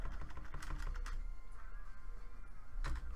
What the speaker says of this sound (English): Sorry for my loud mechanical keyboard.